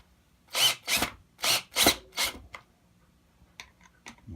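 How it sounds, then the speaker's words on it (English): A big power drill whirs in four or five short, loud bursts with brief pauses between during a Telecaster guitar build, then a few softer clicks and taps close by. "I always keep the big drill handy"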